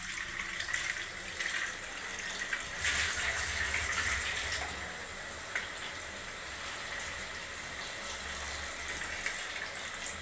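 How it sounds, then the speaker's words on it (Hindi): Potatoes are washed under a running kitchen tap, a steady close splashing rush of water lasting throughout with small shifts in intensity as they are handled, and no voices. "यहाँ मैं इसके अपने आलू वॉश कर लूँगी"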